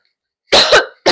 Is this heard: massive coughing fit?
yes